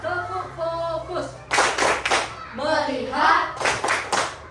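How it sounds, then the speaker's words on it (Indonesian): A classroom group runs a rhythmic clapping routine to focus attention before a lesson, with bursts of loud clapping alternating with chanting voices, all close and lively. "kita tepuk fokus terlebih dahulu. Sudah siap? Tepuk fokus."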